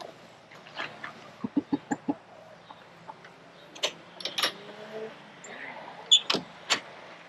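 Hens and a rooster from a three-year-old laying flock give sharp, irregular clucks and squawks, some close and loud, others quieter, with a faint background hum throughout.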